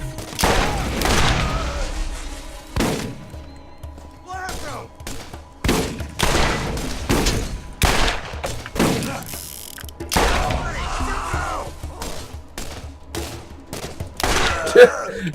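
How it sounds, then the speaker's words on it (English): Gunfire in the Borderlands video game, bursts of rapid shots and heavy thuds in irregular clusters, some close and loud, with short pauses between volleys and occasional game effects. "He was shooting at me at that range and couldn't hit me with a pistol."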